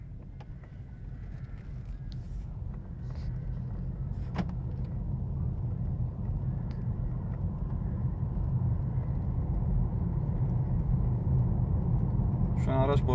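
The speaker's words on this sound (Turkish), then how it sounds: "Şu an araç boşta gidiyor." A car coasts downhill in neutral with its engine idling, giving a steady low rumble and road noise that builds gradually, with a voice talking over it.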